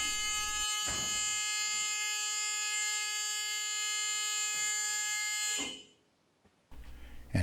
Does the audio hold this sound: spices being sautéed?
no